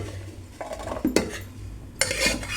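Cooked dal (lentils) is mashed in a pot with a utensil, producing close clanks and scraping knocks against the metal, a couple of sharper hits standing out over a low background hum.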